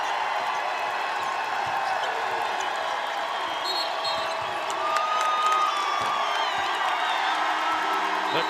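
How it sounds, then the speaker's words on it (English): A women's college basketball arena crowd roars as Kansas State's Ayoka Lee sets the school scoring record, sustained loud cheering and whoops filling the space, with faint commentary beneath. "The crowd going nuts as Lee is mobbed."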